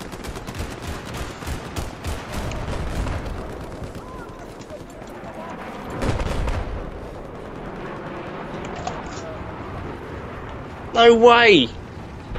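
Battlefield 4 multiplayer gunfire, with bursts of automatic shots and distant explosive thumps across a noisy battlefield, while players talk and one shouts briefly near the end.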